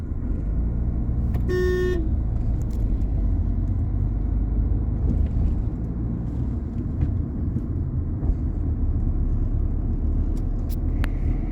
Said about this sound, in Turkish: Şimdi gaza basıyorum ve ikiye alıyorum.